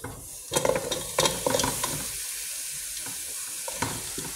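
Meat sizzles and fries in a pan with a steady hiss, broken by several sharp scrapes and clatters of stirring early on, then quieter frying with an occasional stir.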